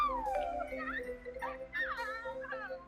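A puppy whimpers and whines indoors in high, wavering, sliding cries, several in a row, fairly faint and close, with no clear talk over it.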